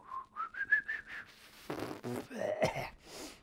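A person whistles the Happy Birthday tune, a rising series of clear notes, then breaks off into talking and laughter near the microphone.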